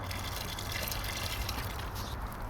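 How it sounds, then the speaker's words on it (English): Water pours into a bucket of cement and dirt for a sidewalk repair mix, a short steady splash and gush heard close up and alone. "Now I'm going to add some water."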